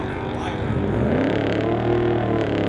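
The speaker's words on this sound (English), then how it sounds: "Firebird getting a bunch of wheel spin there and looking for that traction and not getting it" A 1986 Pontiac Firebird at a street-legal drag race roars under load as it struggles for traction, a sustained, fairly loud engine strain with a rising tone, heard under a commentator talking over a public address.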